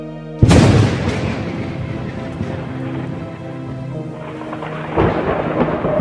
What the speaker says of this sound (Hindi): बहुत तगड़ा तूफान आ रहा है